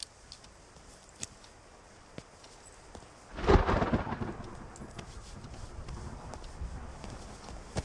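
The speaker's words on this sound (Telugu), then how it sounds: "వర్షం ఇప్పుడప్పుడే తగ్గేటట్లేదు." Heavy rain begins with faint scattered ticks, then a sudden thunderclap bursts midway and rolls into a steady, rumbling downpour that continues to the end.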